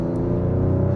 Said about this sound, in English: the upshifts are really, really quick. I'll demonstrate now.